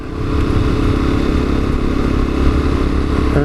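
A Lexmoto Assault motorcycle, long stored unused in a motorhome, runs steadily while being ridden, its engine a continuous close drone with a slight lift near the end and no talking.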